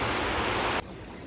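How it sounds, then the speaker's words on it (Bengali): Heavy rain pours outside as a dense, steady hiss, then cuts sharply to a quieter level partway through, with no voices. "আর বাইরে পড়ছে ঝমঝমি বৃষ্টি"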